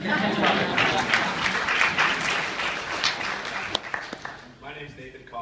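Audience applause at a student welcome gathering, a dense patter of clapping that tapers off into a few last isolated claps, followed by a voice starting to speak.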